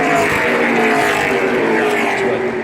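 NASCAR Cup Series race car, battle-damaged, rolling back to its pit stall at the Daytona 500, a loud steady engine drone close by with no break in its roar.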